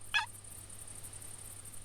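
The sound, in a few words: wild turkey gobbling in video game The Hunter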